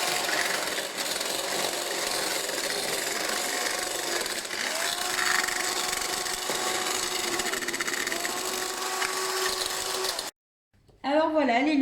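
An electric hand mixer whips egg whites into stiff peaks, giving a continuous whirring buzz with a rattling, scraping texture against the bowl, steady and close, before stopping abruptly as a voice begins speaking.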